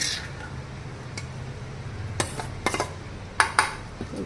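A spoon stirs curd rice in a bowl, mostly quiet mixing broken by a handful of sharp clinks of metal against the dish near the end.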